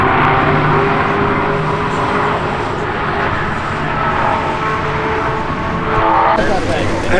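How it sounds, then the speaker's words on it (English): A Porsche drifting on a race track, a loud close engine roar holding steady with rushing, tire-scrubbing noise throughout, and the pitch shifts sharply near the end. "Is that drifting? Just a little bit."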